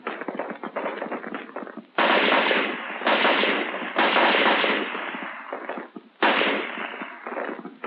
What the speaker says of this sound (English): For your rapid fire zero, you fire 3 groups of 3 rounds each.